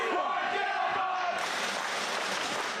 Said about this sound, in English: I think they're chanting, "We want dad bods."